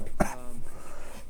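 A single short, sharp cough near the start, close and fairly loud, followed by quiet background.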